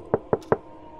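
Three evenly spaced knocks on a front door, close and distinct, sound in a quiet room as a storytelling sound effect.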